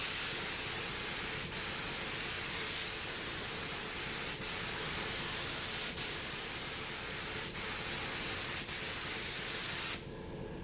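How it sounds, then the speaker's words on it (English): A continuous close hiss of spray paint applying a coat, with a few brief breaks in the flow, lasting about ten seconds before stopping abruptly. "Come back and spray another coat."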